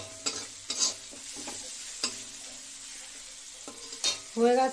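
Brinjal is sautéed in a sesame and poppy seed masala, with a spatula scraping and stirring in a pan in several close, uneven strokes over a soft, steady sizzle.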